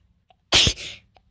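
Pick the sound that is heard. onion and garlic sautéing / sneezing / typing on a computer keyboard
sneezing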